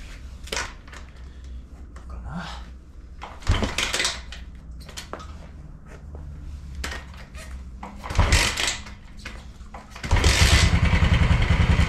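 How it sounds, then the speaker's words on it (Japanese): An engine fitted with a restored vintage tachometer is cranked after some clunks and handling noises, then catches and runs loudly and steadily for the final seconds, close by and with no talk. "早速ね、エンジンかけて、 タコメーターの動作点検とかね、ちゃんと動くのかをちょっと検証してみたいなと思います"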